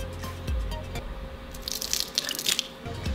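Water poured onto a water-repellent t-shirt, producing a few soft drips and splashes that build into a brief crackly trickle near the end, quiet and close.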